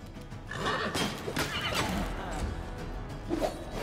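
A horse in the game Wrath of the Righteous lets out a loud, wavering whinny close by, with hoof clops and other game sounds around it, followed by a brief second neigh near the end.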